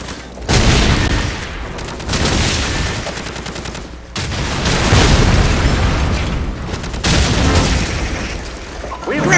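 Bomb explosion in Call of Duty 4 multiplayer sabotage mode, heavy booming blasts and gunfire bursts filling the whole clip, loud and dense with only brief dips between waves.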